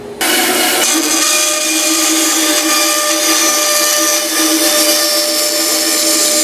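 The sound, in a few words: power saw cutting an angled wooden deck chair leg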